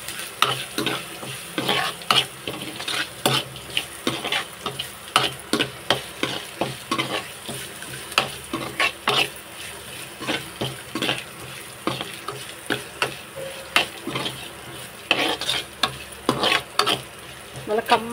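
Small onions fry in a pan for bitter gourd curry, with a steady sizzle under rapid, repeated scraping strokes of a spoon against the pan that continue throughout. No voices are present.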